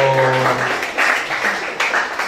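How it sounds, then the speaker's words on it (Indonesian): A school audience at SMAN 30 Jakarta Pusat breaks into short clapping right after a speaker's voice. The applause is brief and moderate in loudness and comes in uneven bursts. "Tepuk tangan dulu dong."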